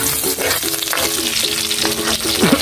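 Garlic sizzling in hot cooking oil, a close, steady crackling fry with small stirring scrapes and bright spitting throughout.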